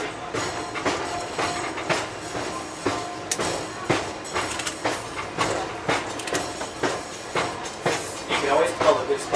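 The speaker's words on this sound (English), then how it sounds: "as we get closer to downtown, we begin to go uphill slightly and making our locomotive work just a little bit more than usual" Locomotive-hauled train on the Pittsfield & North Adams rail line climbing a slight grade toward downtown, with repeated clickety-clack wheel beats over rail joints and a steady rumble, heard from onboard.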